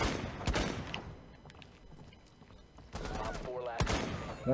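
Bursts of gunfire from a Rainbow Six Siege multiplayer match, sharp clustered shots near the start and again later, with a quieter stretch between them.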